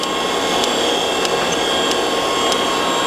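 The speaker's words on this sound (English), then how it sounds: "Turn on our grinding spindle." A Heald 174 internal grinder's grinding spindle runs with a steady high-pitched whine and hiss, close and continuous, with faint regular ticks recurring about every half second.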